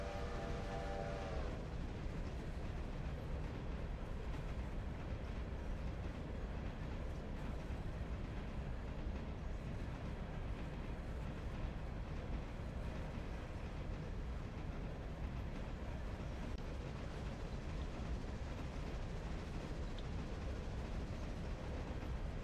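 A passenger train rolls past in the railway game Railroader, a loud continuous rumbling roar of wheels and cars with a brief tonal horn note at the very start.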